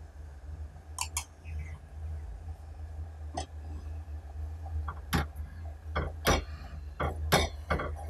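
Masala is stirred into noodles in a pan, giving faint scattered clinks and scrapes of a utensil against the cookware over a low background hum.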